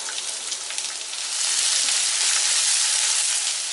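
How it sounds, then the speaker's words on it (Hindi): Chopped onions frying in a pan with roasted chana and urad dal on a medium flame for South Indian red chutney, a steady loud sizzle that swells and stays constant without any talk. "लाइट ब्राउन हो जाए तब तक प्याज को भून लेते हैं।"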